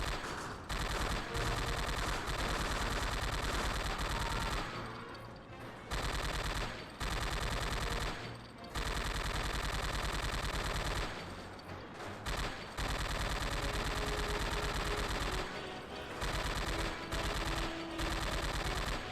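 A mounted machine gun in Commandos: Strike Force hammers out long continuous bursts, loud and near, broken by a few short pauses, with no talk over it.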